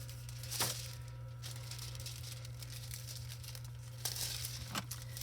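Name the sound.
sheet of red foil being handled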